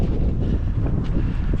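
Steady wind buffets the microphone on a snowy winter hiking trail, a continuous low rumbling roar throughout with no voices.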